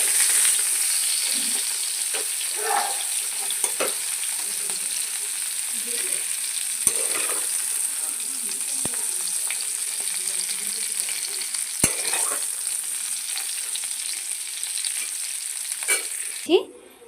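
Turmeric, tomato and grated ginger fry together with spices in hot oil, giving a steady, close sizzle with occasional sharp clicks of stirring throughout.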